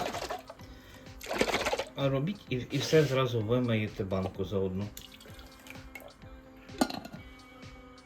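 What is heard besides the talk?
pouring water into a jar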